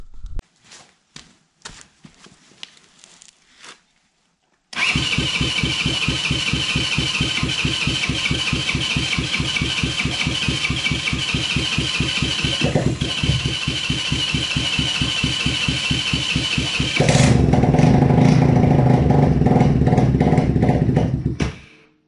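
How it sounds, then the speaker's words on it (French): A quad bike with a newly fitted engine and no air filter, cranking in a few short bursts before catching, then running in a steady loud idle that rises in pitch near the end before cutting off. "On va essayer de voir si on peut le démarrer."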